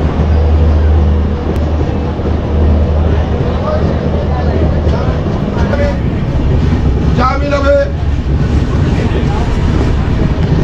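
Tamralipta Express, an Indian passenger train out of Howrah, rumbles along the rails with steady clatter heard from inside, while people talk over it.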